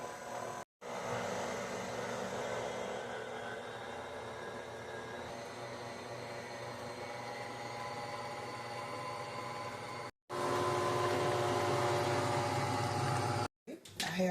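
Electric mixer running steadily on low speed through heavy cream and vanilla, a continuous motor whir with a brief cut near the start and a louder stretch toward the end, under no speech.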